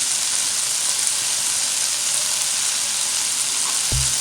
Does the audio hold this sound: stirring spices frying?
yes